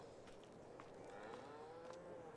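Cattle mooing in Farming Simulator 22 on a Swiss dairy farm, a long low drawn-out moo with faint clicks and ambience, quiet and somewhat distant.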